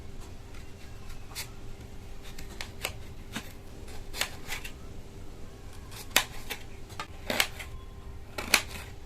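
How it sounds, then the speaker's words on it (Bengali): An onion being chopped into thick pieces with a knife, a series of sharp separate taps on a board, irregular at first and then bunching closer together, near and crisp over a low background hum. "ঠিক এরকম মোটা মোটা করে পেঁয়াজটা কাটবো"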